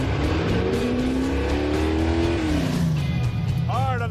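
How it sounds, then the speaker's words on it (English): A 1972 AMC Javelin street car on a track roars loudly as it accelerates, its engine note climbing and then falling as it slows under hard braking, with tires squealing briefly near the end. "Hard on the brakes."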